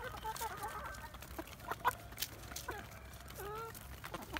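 Chickens in a coop cluck and squawk at close range while being fed, with irregular bursts of clucking and a few louder calls over a steady low rumble.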